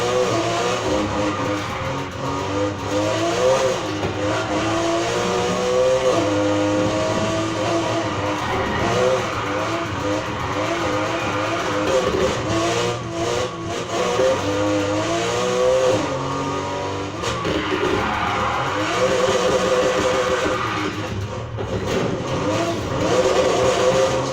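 Nissan Fairlady 240ZG '71 racing in Need for Speed Heat, its engine revving up and down through gear shifts and turns, loud and continuous across the race.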